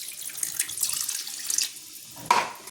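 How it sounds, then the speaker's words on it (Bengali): Water poured into a pot of chicken being cooked, a steady splashing rush that runs throughout with a brief louder burst near the end, close by and alone. "এবার আমি এতে জল দিয়ে দিচ্ছি"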